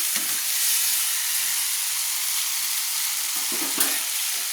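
Potatoes sauté with spices in a pan, giving a steady, close frying sizzle and hiss with a few soft stirring knocks, no voices.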